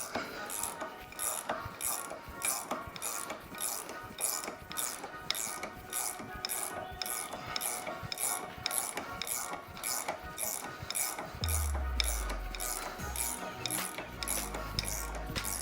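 A spanner ratchets rhythmically as it winds a bush into place, producing regular clicking strokes at a moderate distance, with a low thud near the end.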